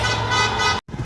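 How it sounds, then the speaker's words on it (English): Steady car horns blare on a busy city street, a loud, continuous honking chorus over traffic rumble that cuts off abruptly near the end. "everybody's honking their horns"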